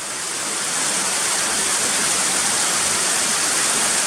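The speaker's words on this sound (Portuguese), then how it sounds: "escutando essa chuva abençoada" Steady, loud rain pours down without a break, a dense even hiss filling the whole stretch with no voices over it.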